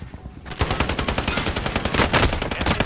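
Rapid automatic gunfire in the video game Call of Duty Warzone, a dense, continuous burst of loud shots starting after a brief quiet moment and sustained to the end.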